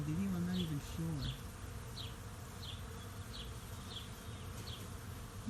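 Bees buzzing around flowers outdoors, a steady near drone with a brief voice-like tonal sound at the start, the insects carrying on alone afterward.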